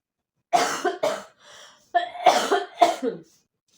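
A person with a cold coughs several times up close, the sharp hacking bursts grouped in short clusters with a quiet breath between them.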